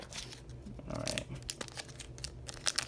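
Scissors cut across the top of a stiff foil trading card pack wrapper, giving close, brief crinkling and crunching snips that come in a few separate bursts over a low room hum.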